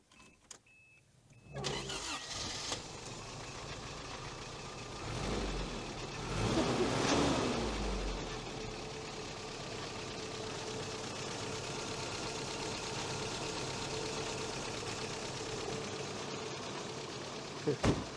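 The engine of a 1983 Toyota pickup starts after a short crank and settles into a steady, rough idle heard up close for many seconds, with people talking around it at times.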